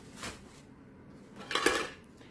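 Metal Esbit alcohol stove from a backpacking cooking kit being handled, two brief clinks and rattles, close and quiet, with no talking.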